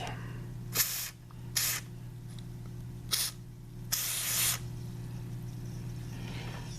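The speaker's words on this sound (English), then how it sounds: "let's spray some more on the top of the nuts." Aerosol rust preventive sprayed onto the fender nuts of a Jeep TJ, four short hissing bursts of varying length, the last one longest, close-up over a steady low hum.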